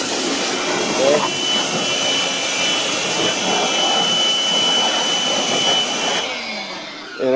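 A steady, loud spray hiss runs almost continuously as the car's wheel wells and engine bay are coated, cutting off briefly near the end.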